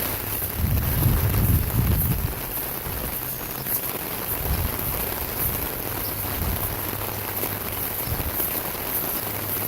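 Steady rain falls across a yard flooded enough to run like a creek, a dense even hiss of drops on wet ground with light wind noise, close and continuous, with no talking.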